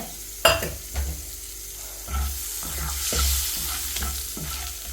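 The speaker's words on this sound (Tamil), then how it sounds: "இப்போ இந்த நெய்யிலேயே ஒரு பட்டை நாலு கிராம்பு மூணு ஏலக்காய் ஒரு பிரிஞ்சி இலை ஒரு ஸ்டார் பூ இது எல்லாத்தையும் நான் சேர்த்துக்கிறேங்க" Whole spices (cinnamon, cloves, cardamom, bay leaf and star anise) fry in hot ghee for a paneer gravy, a steady close sizzle broken by several sharp stirring scrapes and knocks against the pan, with no talking.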